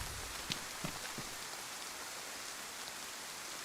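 Steady rain in the video game Project Zomboid, a soft, even hiss of falling drops with a few faint isolated taps, constant and fairly quiet throughout with nothing else heard.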